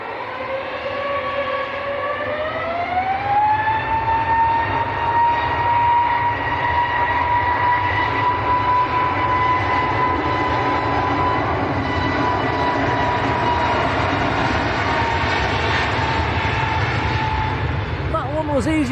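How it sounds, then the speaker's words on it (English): EasyJet Airbus A320neo airliner coming in to land at Manchester Airport, a steady engine drone with a rising whine that settles into a sustained tone, heard at a distance under faint background chatter. "There's another EasyJet just about to touch down as well."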